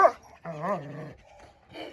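A dog gives a short yelp, then a drawn-out whining, wavering vocalization, followed by a brief quieter whimper; close and moderately loud.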